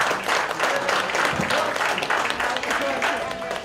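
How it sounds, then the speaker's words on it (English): An audience claps steadily throughout, a dense, full round of applause that tapers slightly toward the end. "Round of applause for our panelists."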